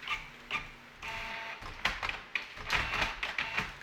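A printer runs in a classroom, giving a series of irregular mechanical clicks, whirs and feed sounds at moderate volume with no talk over them.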